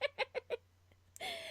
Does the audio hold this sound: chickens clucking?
yes